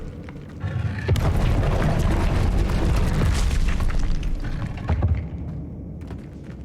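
Incendio fire spell blast in the Hogwarts Legacy video game: a loud, sustained roaring whoosh with booming low rumble that swells after a brief lead-in, holds for several seconds, then fades out.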